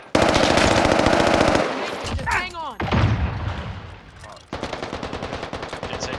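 Rapid automatic gunfire in the video game Warzone, with loud close bursts of machine-gun shots, a brief pause with a sweeping whoosh, then more rhythmic firing in quick succession.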